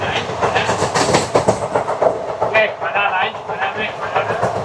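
Kanchanjangha Express passenger train on the Sealdah to Guwahati route runs near Malda, heard from on board with loud, rhythmic clickety-clack of wheels over rail joints and a steady rumble, with a voice talking over it.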